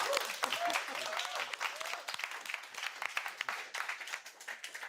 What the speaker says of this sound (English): a round of applause for Natasha.